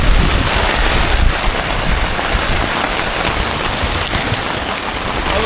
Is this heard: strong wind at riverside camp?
yes